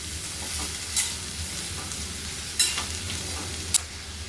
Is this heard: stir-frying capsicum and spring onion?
yes